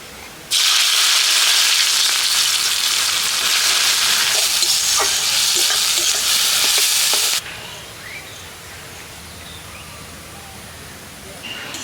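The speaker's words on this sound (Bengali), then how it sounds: "প্রথমে আমি পেরেস্তা তৈরি করে নেবো তার জন্য কড়াইতে সর্ষের তেল দিয়ে দিচ্ছি" A loud burst of sizzling mustard oil as onions hit the wok, a dense hiss holding steady for several seconds before cutting off to quiet room noise.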